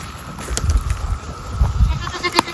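Goats at pasture give a few short bleats in quick succession, moderately close, with soft rustling in between and no talk.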